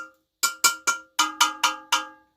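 A metal object is struck with a knife seven times, each hit a bright, bell-like clang that rings briefly and decays, close and alone, in an uneven rhythm.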